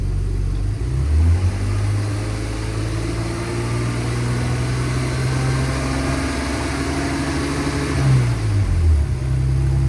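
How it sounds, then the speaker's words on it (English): A car engine in a MAF and MAP sensor lab test climbs steadily in pitch as the throttle is rolled on, holds a raised rev, then drops back toward idle, loud and close throughout. "we just kind of roll on the throttle, see if voltage increases as RPM increases"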